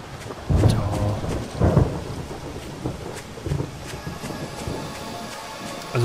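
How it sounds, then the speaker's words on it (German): Deep rumbles of thunder roll in over steady rain in the video game Pineview Drive, with two heavier booms early on and softer rumbling after. "Ein Gewitter, ich mag eigentlich ganz gerne Gewitter."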